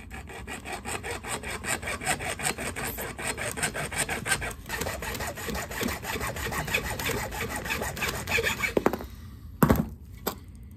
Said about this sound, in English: Time to go to the handsaw and make a lot more cuts and assemble this mount.